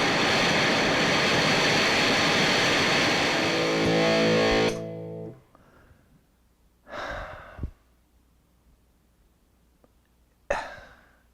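Electric guitar through a Wampler Pinnacle Deluxe distortion pedal with boost engaged, a loud, dense distorted chord sustaining for about five seconds, then dropping out to near silence with a few short noisy bursts.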